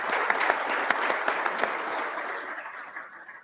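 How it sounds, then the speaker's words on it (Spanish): Audience at a professional-training congress breaking into steady, dense applause for a guest speaker, a full round of many clapping hands that holds strong and then slowly fades toward the end. "Fuertes los aplausos entonces para nuestro invitado"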